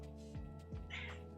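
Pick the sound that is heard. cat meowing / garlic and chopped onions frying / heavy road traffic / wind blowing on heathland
cat meowing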